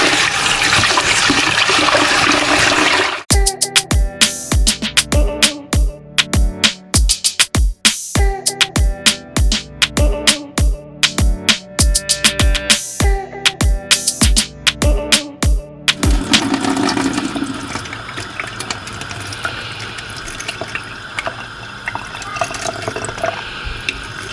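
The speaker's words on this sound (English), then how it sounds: "I'm gonna give it another rinse." Water runs and splashes steadily from a tap while rice is rinsed in a pot, with a stretch of rapid rhythmic sloshing and clicking in the middle before the flow settles back to a smooth rush.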